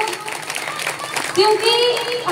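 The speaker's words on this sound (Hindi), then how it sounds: "जितने भी हैं एक बार जोरदार तालियां उन सब के लिए" Loud applause from listeners at a Manas katha during a yagna, crowd clapping briefly with a voice and tonal sounds rising over it partway through.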